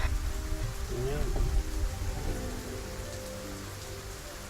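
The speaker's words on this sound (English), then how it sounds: "the sooner we're out of this rain," Rain falls steadily on a surface, a continuous hiss and patter with a faint murmur of voices low beneath it, easing slightly toward the end.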